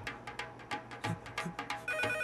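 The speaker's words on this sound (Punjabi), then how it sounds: "ਆ ਫੋਨ ਚੱਕੋ" A mobile phone ringtone plays alone indoors, a repeating electronic melody with regular pulsed notes at moderate volume.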